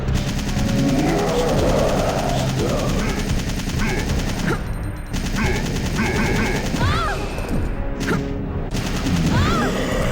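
Rapid bursts of automatic gunfire crackle loud and near, with repeated volleys and booming impacts stacking up almost without pause, and a voice cuts in briefly.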